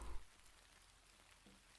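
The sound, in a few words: rain falling, video game sound effect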